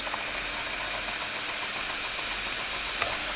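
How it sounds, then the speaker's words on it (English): A power drill bores a hole through the back of a wooden fence, a steady high whirring grind that holds level for several seconds, close and fairly loud, with a brief click near the end. "you're gonna take a drill and drill a hole through the back of your fence"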